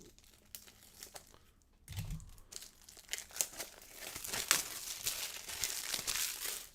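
A PlayStation 4 game package being opened with scissors: crinkling and tearing of plastic wrap, with irregular snips and rustles that grow busier and louder toward the end, with no voices.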